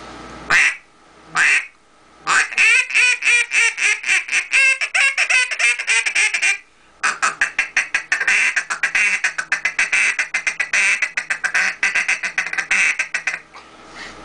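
A duck call blows rapid series of loud, raspy quacks, rising into fast rhythmic chattering bursts with brief pauses between runs.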